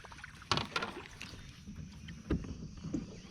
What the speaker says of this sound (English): The paddle ability of this kayak is actually not bad.